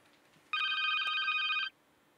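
A telephone bell rings in one continuous burst of a little over a second, loud and close against a quiet room.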